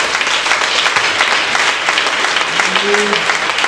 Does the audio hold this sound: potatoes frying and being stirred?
no